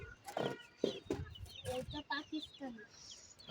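Chickens cluck on a rooftop farm eight floors up, a mix of local desi hens and a larger tiger fowl, sounding as several short, close calls in irregular bursts with faint voices nearby.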